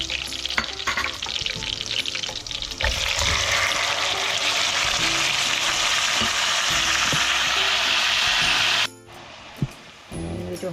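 Marinated chicken frying with onions in a pot for mutton pulao, a loud steady sizzle with stirring clatter that swells after a few seconds, then cuts off abruptly near the end, leaving quieter scraping.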